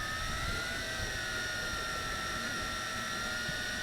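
Tarantula X6 camera drone hovering outdoors, a steady whining multi-rotor buzz with tonal layers that holds evenly and fairly loud throughout, with wind noise underneath.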